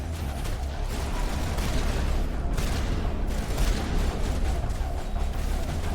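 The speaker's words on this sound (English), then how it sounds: "Shotgun." Shotgun fire during a Mass Effect firefight, with dense, booming blasts that overlap into a continuous barrage of battle noise and stay loud throughout.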